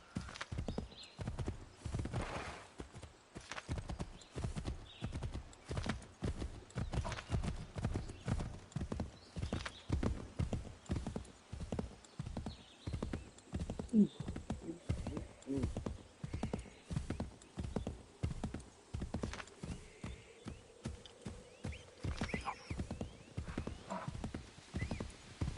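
A horse gallops in Assassin's Creed III, its rapid rhythmic hoofbeats running steadily throughout, close and clear, with a whinny breaking in partway and faint voices underneath.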